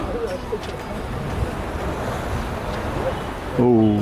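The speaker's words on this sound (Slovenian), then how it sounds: "Buči morje mediteransko." Mediterranean sea waves roar steadily against the coast of Cyprus below a fortress wall, a dense continuous wash with strong wind buffeting the microphone.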